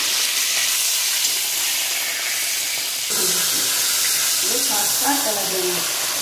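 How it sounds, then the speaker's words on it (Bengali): Fish frying in mustard oil keeps up a constant sizzling hiss, with a voice talking over it in the second half. "মাছগুলো ভালো করে ভেজে নিয়েছি"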